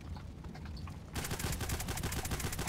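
Shots from a GSH-18 semi-automatic pistol in the video game Contact Wars, fairly faint. Scattered softer reports at first, then a fast, dense string of sharp shots over the last second and a half.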